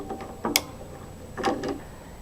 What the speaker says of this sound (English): then tighten the bolts with the pliers and the vice grips